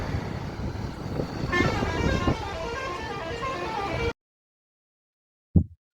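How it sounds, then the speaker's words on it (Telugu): Dense highway traffic with cars, buses and trucks rumbling past and horns tooting, loud and continuous for a few seconds before cutting out, then one brief burst of noise. "హైవే నిండా బండ్లే ఉన్నాయి"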